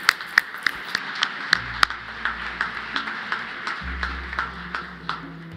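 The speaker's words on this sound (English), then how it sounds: "Give them a round of applause." A small audience claps for award recipients at a government awards ceremony, a thin, steady patter of hands with separate claps audible, fairly distant, with a low hum underneath.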